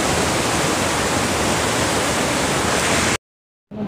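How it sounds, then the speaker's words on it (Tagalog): Tongtong Falls waterfall in San Jose del Monte, Bulacan, pouring down under strong water pressure: a loud, close, steady broadband roar that cuts abruptly to silence near the end, then faintly resumes. "Ito guys, nandito tayo sa Tongtong Falls. Ang lakas ng pressure!"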